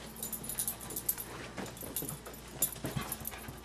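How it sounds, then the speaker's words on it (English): A puppy whimpering, panting and giving small yips close by in a home where it meets a kitten, with soft rustles and a faint jingle between the whines. "That's the dog."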